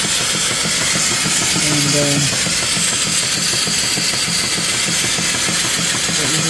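An antique steam engine turning its flywheel at about 200 RPM drives a 16-inch V-belt pulley, giving a loud steady mechanical chugging and hiss throughout, with someone speaking briefly over it.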